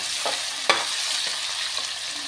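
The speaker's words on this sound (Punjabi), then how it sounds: "ਪਿਆਜ਼ਾਂ ਨੂੰ ਆਪਾਂ ਲਗਾਤਾਰ ਹਲਾਉਂਦੇ ਹੋਏ ਪਕਾਵਾਂਗੇ" Onions sizzle steadily in a pan for potato sabzi, a loud, close hiss broken by a few sharp scrapes as they are stirred, with no voices.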